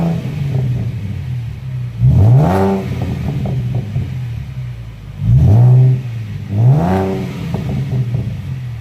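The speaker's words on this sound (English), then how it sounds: "he's gonna hop in it and give it a little bit of gas so you can kind of hear what this thing sounds like" A 2017 Ford Mustang V6 with a CJ Pony Parts axle-back exhaust idles with a steady low burble, then is revved three times in short blips that rise sharply and fall back, close and loud, with no talking.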